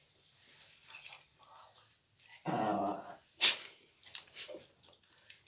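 Dog growling and barking, with a low throaty growl followed by a sharp bark and a few softer grunts and whimpers, close and alone against a quiet background.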